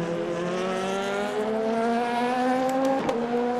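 A race car in the video game Le Mans Ultimate drives close by, its engine whining as it revs upward through a gear, with a brief tire squeal near the end.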